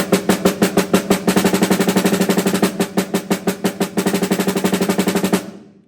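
A fast, even snare drum roll of double strokes, close and loud, pulsing in regular groups before stopping abruptly.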